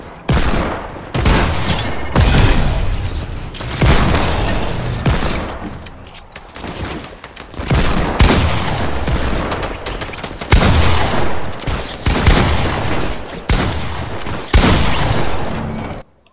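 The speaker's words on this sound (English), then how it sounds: "It's the shotgun, combat shotgun." A combat shotgun fires in the Fortnite video game: loud, punchy blasts come in rapid clusters and trade with other gunfire across the whole stretch, with brief lulls between volleys.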